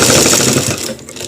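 Sewing machine stitching a shirt collar, a loud, rapid rattling run of needle strokes that slows and fades after about a second.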